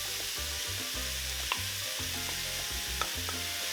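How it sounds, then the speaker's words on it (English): Onions frying in a pan for tacos, a steady broad sizzle with a couple of faint utensil taps, continuous and close. "And I am going to add my onions."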